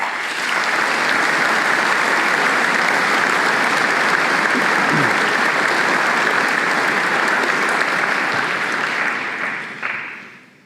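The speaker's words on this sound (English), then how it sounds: "I think that deserves a round of applause" A large audience at a school Speech Day claps steadily for about ten seconds, a dense, even wash of applause that fades out at the end.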